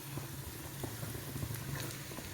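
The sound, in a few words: tomatoes added to sautéing onions in a pan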